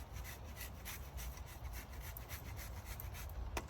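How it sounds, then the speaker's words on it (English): Fresh Parmesan cheese grated over tomato spaghetti, a soft rhythmic rasping of quick repeated strokes, close and quiet, ending with a slightly sharper scrape. "I'm also going to give a grating of fresh Parmesan on top of this."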